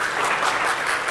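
Brief, dense audience applause for a speaker at a tech talk on anonymous computing: a steady wash of many hands clapping at moderate loudness.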